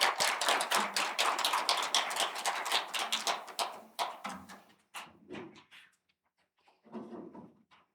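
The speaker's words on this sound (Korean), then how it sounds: "우리 다시 한번 함께 큰 영광의 박수 올려드리겠습니다" Congregation applause at a Friday night church prayer service: dense, steady clapping for several seconds that thins into a few scattered claps and fades near the end.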